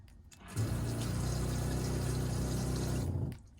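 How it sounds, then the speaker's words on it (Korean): A pressurized water pump in a Renault Master camper van kicks on with a low, steady buzzing drone and water rushing, runs for about three seconds, then shuts off. "물펌프 소리가 은근히 커요"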